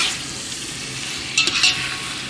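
Mutton and potato with ginger paste frying in a pot, a continuous sizzle with a brief burst of metallic stirring scrapes midway, close and steady.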